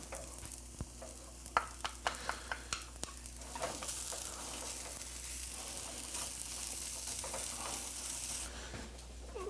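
Onions dropped into a pan of slightly browned rice while making red rice and beans, a few sharp clacks and taps followed by a steady low sizzle and stirring.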